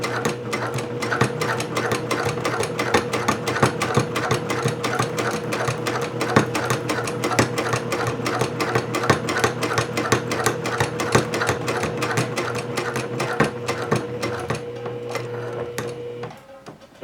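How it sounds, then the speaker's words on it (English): A sewing machine back stitching a courier bag at a 2.5 stitch length runs steadily and loud at close range, its rapid needle clatter and motor hum continuing until it stops near the end. "Back stitch and lock that top side down real good."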